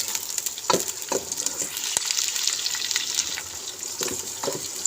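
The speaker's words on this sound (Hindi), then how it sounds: "अब हम ज़रा प्याज को थोड़ा सा ब्राउन कर लेंगे, बहुत ज़्यादा नहीं करेंगे लेकिन उसको रंग देंगे" Onions browning in ghee in a pan for dal chawal, a continuous close sizzle broken by sharp scraping stirs and clinks of a spoon against the pan at irregular intervals.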